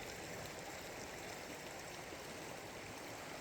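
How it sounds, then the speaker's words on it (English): Small stream of pond-fed water flowing over rocks outdoors, a steady close broadband rush and trickle with no pauses and no voices. "you can see the water's flowing down there and goes that direction"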